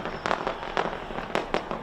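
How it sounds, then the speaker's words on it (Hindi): Fireworks bursting over Auckland's Sky Tower at New Year, a string of sharp crackling pops and bangs at irregular intervals against a steady hiss of distant crowd and ambience. "ऑकलैंड का स्काई टावर आतिशबाजी से रोशन हो गया है।"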